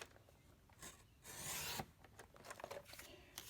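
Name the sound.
trimming cardstock for a flower pot card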